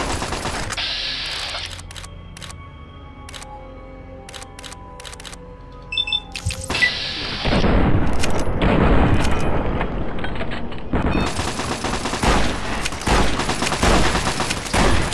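Machine gun fire in Fallout New Vegas starts with sparse sharp shots, then breaks into long loud rapid bursts with dense booming volleys.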